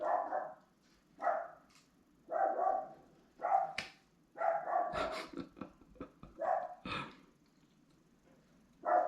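A dog barks repeatedly in short bursts, close by and fairly loud, with brief pauses between barks.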